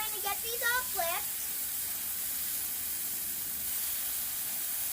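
Ribeye steaks sizzling loudly on a Blackstone griddle after being flipped, a steady close hiss of searing meat lasting throughout, with a brief spoken voice at the start.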